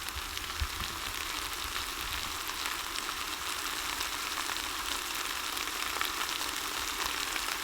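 Steady, close frying sizzle from coriander leaves dropped into a hot pan with onion and radish, a continuous bright hiss with no pauses and no one speaking.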